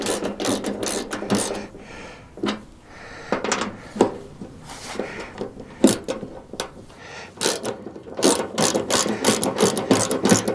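Ratchet wrench tightening bolts on an aftermarket truck bumper, rapid clicking bursts in uneven spurts with short pauses, close and fairly loud, no talk.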